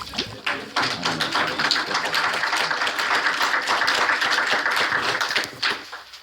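Town hall audience on gun policy in Plant City, Florida, clapping in a dense patter of individual hand claps that swells and holds for several seconds before tapering off near the end.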